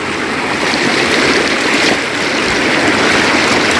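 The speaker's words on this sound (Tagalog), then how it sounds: "Tatawid din ng ilog mga kaagri. Ngayon tatawid din ng ilog." Clear water of the Umanod River rushes steadily at a river crossing, a dense, continuous, close-up flowing roar with no voices.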